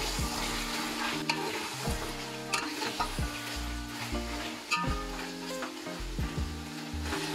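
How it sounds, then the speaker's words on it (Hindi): Beef sizzles steadily in a hot pan while a utensil stirs and scrapes it every second or so, with no talking. "बीफ को हम अच्छे से फ्राई करेंगे"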